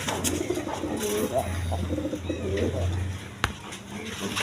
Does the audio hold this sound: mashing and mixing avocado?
no